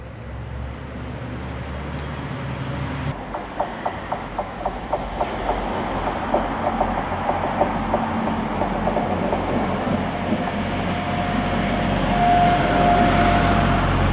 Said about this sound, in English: as we see this train depart